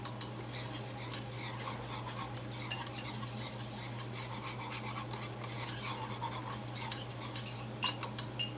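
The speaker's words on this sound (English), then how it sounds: "Add some milk in here. I'm going to stir it with add. Stir it in." A spoon scrapes and swirls steadily around a pot as milk is stirred into a butter and flour base for a cheese sauce, soft continuous rubbing with faint clinks, close and quiet.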